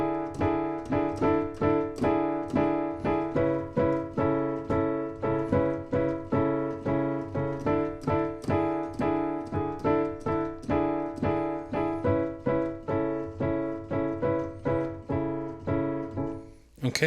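Piano plays the intro and verses of a song as steady, evenly repeated chords in a bright, rhythmic pulse, close and clear, without any speech.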